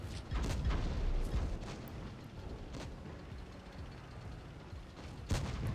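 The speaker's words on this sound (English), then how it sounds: "And we hear the gunfire." Tank cannon fire in World of Tanks Blitz on a spring-season Ascent 8 match, with several heavy booms at moderate distance spread over a low rumbling battle background, the loudest shot at the end.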